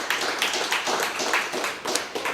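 Steady applause from a crowd, many hands clapping together at a fairly loud, even level with small swells throughout.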